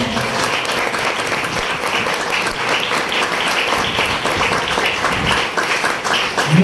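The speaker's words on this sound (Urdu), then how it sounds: "اس کے جلال کے لیے پرزوردار تالیاں بجائیں" A church congregation bursts into loud, sustained applause, many hands clapping densely together for several seconds at a steady high level.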